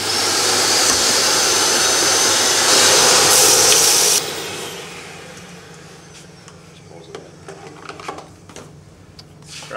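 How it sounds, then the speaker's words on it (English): A vacuum cleaner sucks excess coffee beans out of a Quamar M80e grinder with a loud, steady whooshing roar for about four seconds, then cuts off to a quiet room with scattered small clicks. "remove any excess coffee beans by using a vacuum cleaner"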